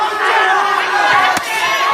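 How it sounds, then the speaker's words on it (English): A large Japanese crowd at a boxing match roars and shouts in a dense, loud swell of voices, reacting to Kameda's punches landing, with a sharp impact near the middle. "And this Japanese crowd reacts every time Kameda lands."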